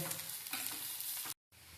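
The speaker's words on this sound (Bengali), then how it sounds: "দিয়ে আরও 1 মিনিট ভাজা ভাজা করব।" Chopped onion frying with potatoes in a pan for a bitter gourd chorchori gives a dense, steady sizzle with stirring scrapes, cut by a brief silent gap before the sizzle resumes.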